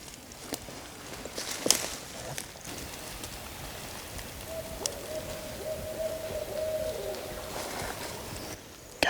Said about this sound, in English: These owls are fired up.